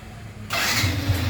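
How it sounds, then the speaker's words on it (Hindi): A car engine turns over and catches about halfway through: quiet background first, then a sudden broadband roar that settles into a strong, steady idle with low throbbing, loud and close. "ये गाड़ी अभी बंद किया मैंने, ये गाड़ी बंद किया, ये मैं चालू किया गाड़ी"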